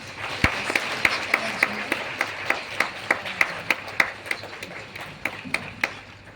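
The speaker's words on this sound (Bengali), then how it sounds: "এবং একই জিনিস নবীনের জন্য, তার জন্য আসুন আমরা হাততালি দিই" A church audience claps in a steady, even rhythm for Nabin during a worship service, a run of around twenty sharp, moderately loud claps spaced about a third of a second apart, with no talking over them.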